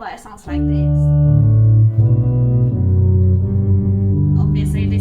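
Organ pedals sounding the repeating bass line of Pachelbel's Canon in D, deep sustained low notes stepping one into the next at a steady pace, loud and close, with held tones overlapping between changes.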